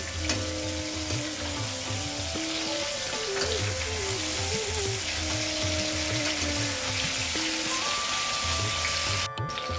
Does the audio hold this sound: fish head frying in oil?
yes